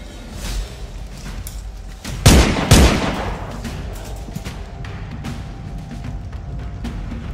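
Continuous rattling gunfire from a video game, with a pair of louder blasts midway and steady crackling shots throughout.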